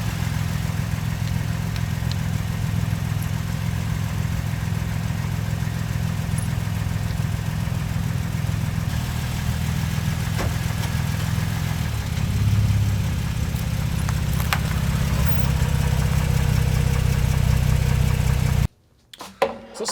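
A truck engine idles steadily and close by with a low, constant rumble that rises slightly partway through, then cuts off sharply near the end.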